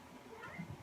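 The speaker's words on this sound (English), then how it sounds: "There's a kitty just came in." A cat gives a short, faint meow or two in a quiet indoor room, soft and brief against low background noise.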